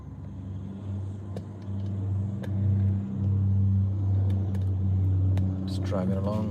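A car driving along a quiet road in Krabi, a steady low engine rumble and road hum holding throughout, with a brief rising rev near the end.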